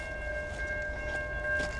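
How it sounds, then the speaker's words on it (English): A train draws near an abandoned 19th-century railroad tunnel, a loud, steady rumble with sustained high ringing tones running through it, heard alone. "got a train coming."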